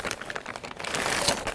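A plastic bag holding a coffee pot crinkles and rustles at close range during outdoor fire-making preparations, with a brief burst of dense, crackly handling noise and no voices.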